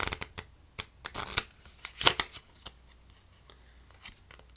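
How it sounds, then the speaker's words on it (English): A deck of playing cards is shuffled by hand during a card trick, giving bursts of quick riffling and soft snapping clicks with short pauses between, close and fairly quiet, with no talking. "We'll give these a shuffle."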